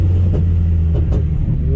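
A car engine runs steadily after new fuel injectors were fitted, a loud, close, continuous low rumble with a few brief bumps in the sound and no talking.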